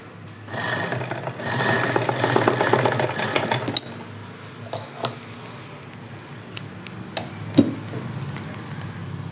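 A sewing machine stitching cloth petals for rose-design latkans, a fast steady whirring run for a few seconds followed by quieter clicks, fabric handling and occasional isolated stitches.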